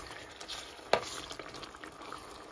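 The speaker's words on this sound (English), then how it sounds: "we're going to let this simmer for a couple minutes and cover" Seasoned taco meat simmers quietly in a pan with a soft bubbling sizzle, broken once early by a sharp utensil clink against the pan.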